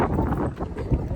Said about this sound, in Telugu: చల్లటి గాలి మనసుని శరీరాన్ని అలా తాకుతుంది